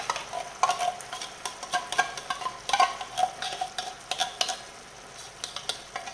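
Food sizzles in a pan while a utensil stirs and scrapes through it in quick, irregular strokes, close and moderately loud.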